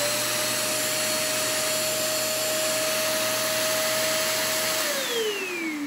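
An iwoly V600 handheld lightweight stick vacuum cleaner runs with a steady, close airy whir and a constant whine, which drops in pitch near the end as the motor winds down.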